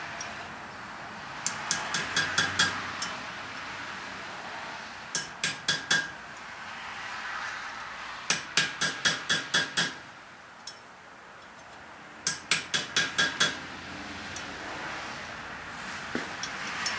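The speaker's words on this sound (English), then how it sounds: "I'm going to set it back on my little mandrel there and find my little ball peen" A small ball peen hammer taps a metal ring on a little mandrel in quick, bright clusters of four to six sharp metallic strikes, separated by short pauses and repeated several times.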